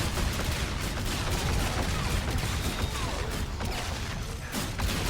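Constant gunfire from Infinite Warfare's Zombies in Spaceland mode, a dense, steady barrage of rapid shots filling the whole stretch with no pauses and no speech.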